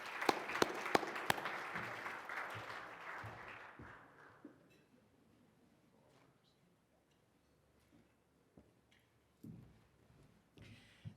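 Applause for 2020 honorees at an RSNA awards ceremony, a burst of clapping that fades out over about four seconds, followed by near silence with faint scattered sounds and brief soft voices.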